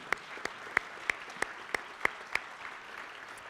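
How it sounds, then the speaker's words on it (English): Applause at a Rotary club meeting, heard as a short run of about eight sharp, evenly spaced claps over a low room hum rather than a full crowd ovation. "So a round of applause."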